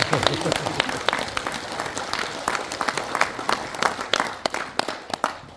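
An audience at a general meeting and invited lecture applauds to congratulate a newly elected party supreme council member, a steady spread of many hands clapping with sharper individual claps on top, and voices talking over it.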